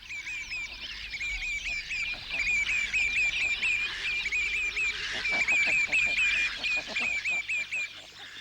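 Mallard ducks call repeatedly in a steady run of short, rising honking notes at the edge of a croft on Gullar. Other bird chatter sits underneath, and the calls stay fairly close and clear throughout.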